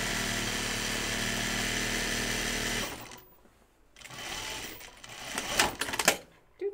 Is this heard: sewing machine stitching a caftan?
yes